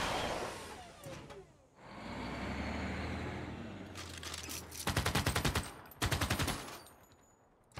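Missile cruisers in Civilization VI open fire on submarines: a whooshing launch and engine rumble give way to two bursts of rapid, loud machine-gun-like rattling, with a brief pause between them.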